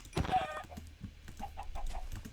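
A few short chicken clucks in a video game jungle biome, starting with a brighter squawk and followed by quieter, evenly spaced clucks.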